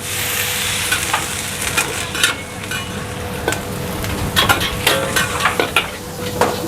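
Capcay vegetables in a wok, with water just added, sizzle steadily and loudly while a metal utensil scrapes and clinks against the pan in irregular stirring strokes.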